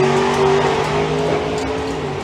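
A drag racing car launches down the strip at Santa Pod Raceway during the summer nationals, a loud, sustained engine roar with strong tonal bands, heard at moderate distance and holding steady throughout.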